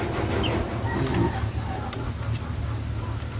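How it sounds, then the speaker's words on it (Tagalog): Chicks and hens of a mixed breed cluck and peep on a backyard farm, with several birds calling close by in a steady, busy chatter that is continuous throughout. "itong ating sisiw"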